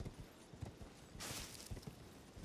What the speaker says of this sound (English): so you might as well just use your horse for it.